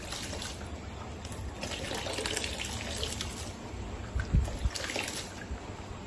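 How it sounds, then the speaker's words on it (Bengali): Chopped banana flower kneaded by hand in turmeric water, a soft, continuous wet squelching and sloshing, close and fairly quiet, with a few louder splashy squeezes near the end and no talking. "এখন চটকে নিচ্ছি মোচাটা, এই জলে হলুদ জল করে নিয়েছি"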